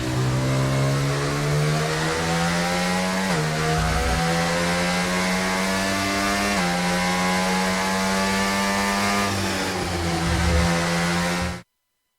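Formula 1 car engine in the racing game F1 24, a loud, close, high-pitched whine holding steady with brief dips and shifts in pitch as the car slows and rolls on, with no talk.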